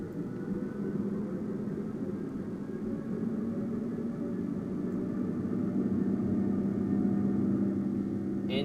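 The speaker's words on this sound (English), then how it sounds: "Engine is screaming" Airbus A350 jet engine in Microsoft Flight Simulator 2020 after a bird strike, a steady droning roar with a persistent low hum, running continuously at moderate level with no voices.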